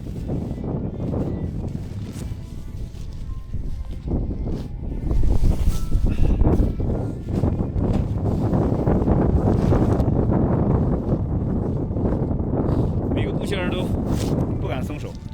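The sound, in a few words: strong wind blowing on snowy mountain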